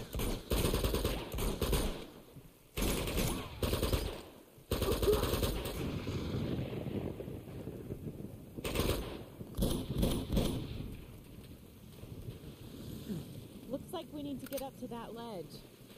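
Blind-fire gunfire in the video game Uncharted 2, several loud automatic bursts separated by short gaps, followed by quieter game ambience and a brief voice near the end.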